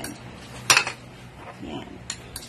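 Ukoy batter with dulong fish being mixed in a bowl with metal utensils, giving one sharp cluster of clinks and scrapes in the middle and a few lighter taps near the end, close and fairly faint.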